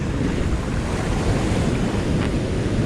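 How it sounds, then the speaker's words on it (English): Ocean waves rush up a beach in a steady, loud, close wash of surf with wind buffeting the microphone, and no voices. "Look at this rush of water."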